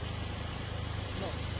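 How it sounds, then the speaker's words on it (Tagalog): A rebuilt car engine idling quietly after machine shop work, a soft, even low hum with a faint steady pulse, while speech carries on over it. "Engine na yan, no? Sobrang tahimik, wala nang problem."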